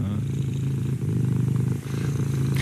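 A contented cat purrs steadily up close, a continuous low rumbling throb with a regular rhythm, briefly pausing for breath before resuming, with no talk over it.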